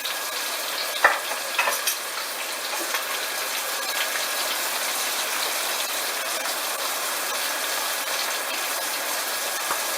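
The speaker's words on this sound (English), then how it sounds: "So we're just going to put the remaining green beans, carrot mixture in there." Green beans and a carrot mixture are stir-fried in hot oil, a steady close hiss of frying with a few soft stirring knocks near the start and no talking.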